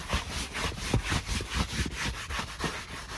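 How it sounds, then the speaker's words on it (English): Car seats scrubbed during mobile detailing: close, rhythmic back-and-forth brushing strokes, about a dozen rough swishes in steady succession. "We scrub them real good."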